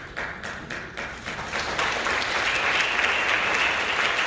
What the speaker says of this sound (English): Understand that you're clapping for the compensation plan provided by your company.